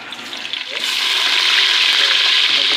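Golden onions with ginger-garlic paste fry over a high flame for masaledar rajma, a quieter sizzle swelling abruptly into a loud, dense, sustained crackle right up close.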